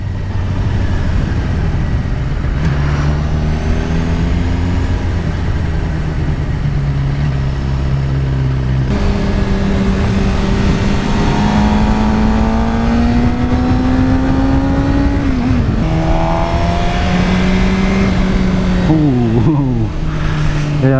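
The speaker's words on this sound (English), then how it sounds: "easy on the throttle there, Jake." Onboard a Suzuki GSXR 600 with a Yoshimura exhaust, the 600cc engine revs hard and climbs through gears, pitch rising and dropping with each shift, loud and continuous with wind roar.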